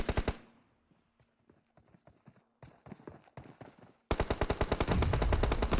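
Gunfire in PUBG Mobile during a pro league finals match, with scattered single shots and short bursts at first, then a sustained loud automatic burst after a brief silence.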